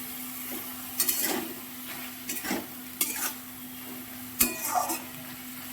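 Banana flower stir-fried with spices in a pan: a constant sizzle with repeated scraping and stirring strokes of a spatula against metal, several distinct clattering strokes.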